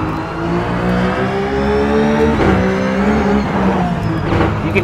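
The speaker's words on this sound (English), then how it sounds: "You hear him hit that rumble strip, and you hear the flex of the tranny, you hear the flex of the drivetrain, the tires" A RUF race car in the iRacing sim runs at speed over a rumble strip, its engine drone loud and steady with a brief rattling texture from the strip partway through and no talk.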